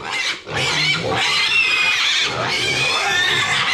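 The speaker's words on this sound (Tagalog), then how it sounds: "Yung mga baboy naman natin yung pakainin. Ang ingay na." Farm pigs squeal noisily at feeding time, a loud, continuous chorus of shrill cries close by with hardly a break.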